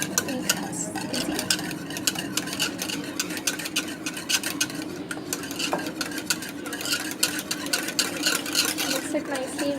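Egg batter for cupcakes is beaten in a bowl with rapid, steady whisking clicks against the sides, continuous and close, while someone talks over it.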